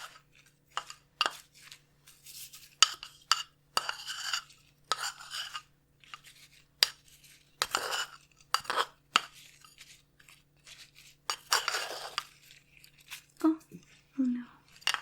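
A potion mixture is stirred in glassware with scattered clinks, scrapes and taps of a utensil against glass, each soft and close, set between stretches of talking.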